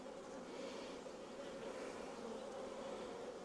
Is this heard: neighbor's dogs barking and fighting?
no